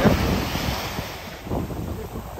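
Strong wind blowing across a beach at night, a rough buffeting rush against the microphone with low surf-like roar underneath, loud at the start and easing slightly.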